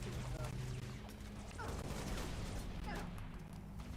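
Bursts of gunfire in a video game while the player is under attack, dense overlapping shots and crashes filling the mix with a voice talking over it.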